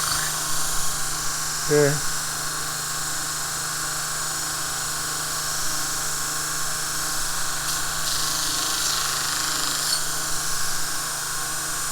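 A Vevor 1x30 belt grinder deburring metal, a steady loud motor whine and belt hiss running throughout, with a brief grinding rasp and a short spoken word near the start.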